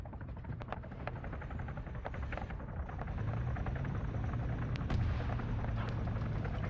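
Steady rotor drone from Huron helicopters in an Arma 3 battle, building slightly louder midway, with scattered distant thumps and crackles of combat around it.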